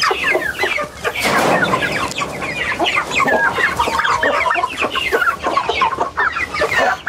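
Chickens cluck continuously and close by, with overlapping calls and chatter from a flock that includes white chicks of a rare breed.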